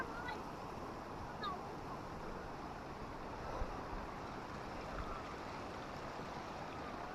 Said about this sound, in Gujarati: આ બાજુથી પાણી આવે છે અને આ રીતના રહી આ પાણી નીચે જાય છે.